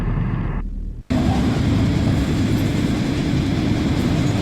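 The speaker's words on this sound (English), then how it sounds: "Train's gonna crash." A train in the Poppy Playtime video game, a loud, dense rumbling roar that cuts in abruptly after a brief quieter passage and then holds steady and heavy to the end.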